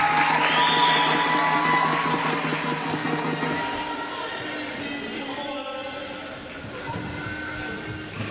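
Basketball crowd at a women's league game cheers after a tip-in, a loud burst of whoops and shouts that gradually fades into background murmur.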